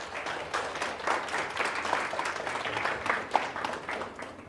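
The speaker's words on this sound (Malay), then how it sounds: "bagi tepukan kepada yang datang awal." A seminar audience claps together, a fairly dense, steady patter of many hands in a room, moderately close, with a few sharper claps poking through and no talk over it.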